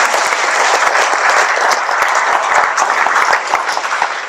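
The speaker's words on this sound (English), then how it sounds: "We can give Karen a round of applause." An evening audience at an exhibit talk applauds a co-curator, giving a loud, dense burst of clapping that stays steady for several seconds before easing slightly at the end.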